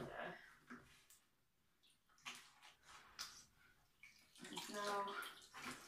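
Wool yarn being rinsed in water in a colander, with splashing and pouring in uneven bursts and a louder sloshing stretch near the end, alongside some quiet talk.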